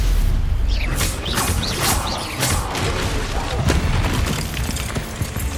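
Confringo blasting curse explosions in Hogwarts Legacy, a rapid series of loud booming blasts and crackling bursts over heavy low rumble, with a voice shouting over the blasts.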